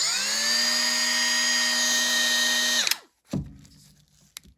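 A Milwaukee 2485-20 right angle die grinder fitted with an extra coarse Saburrtoo bit whines steadily at a high, even pitch for about three seconds, then spins down and stops, followed by a few faint clicks and handling noises.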